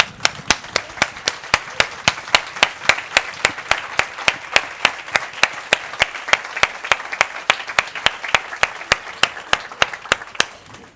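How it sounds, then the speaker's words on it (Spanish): Rhythmic applause at a conference on women's health and AI, with the crowd clapping in unison to a steady, brisk beat, each sharp synchronized clap ringing out over a softer layer of scattered hand claps throughout. "Venga, un aplauso."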